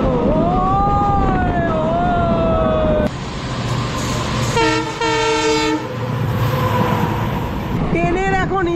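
A DEMU local train on the Siliguri to Dooars line runs through a tunnel, roaring loudly and steadily. A long sliding horn blast sounds first, then a clipped, stuttering run of horn tones partway through, and a rising horn call comes near the end.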